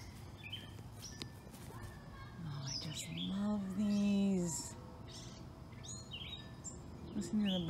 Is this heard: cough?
no